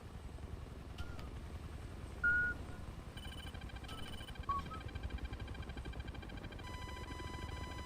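A missile lock-on warning inside a War Thunder helicopter, bursts of high electronic beeping tones that start, stop and return as a sustained alarm over the steady chop of the rotor.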